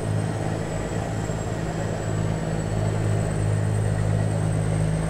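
Heavy truck engine with a straight-pipe exhaust in American Truck Simulator, a steady loud low drone with a constant whine on top, running continuously for the whole stretch with no talk.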